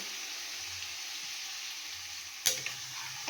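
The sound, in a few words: water added to marinated fish frying in oil, sizzling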